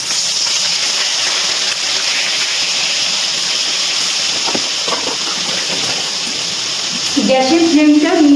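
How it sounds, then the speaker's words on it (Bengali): Shankar (stingray) fish pieces frying in hot oil over a medium gas flame for shankar macher kasha, a steady loud sizzling hiss running throughout, with brief stirring or clatter noises near the end. "গ্যাসের ফ্লেমটা মিডিয়ামে রেখে মাছগুলো ভেজে নিচ্ছি"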